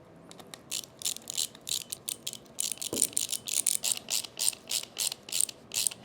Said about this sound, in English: I just need to tighten these two screws down.